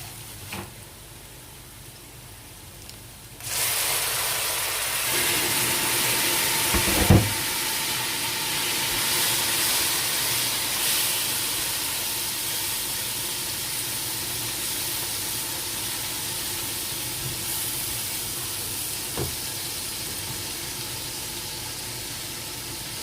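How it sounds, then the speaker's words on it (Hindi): Steady sizzling and hissing of spices frying in a hot pan as a tadka for moong dal, continuous and close, with a brief clatter partway through and no talking. "7-8 मिनट के लिए अच्छी तरीके से भून लेते हैं हम सब मसालों को"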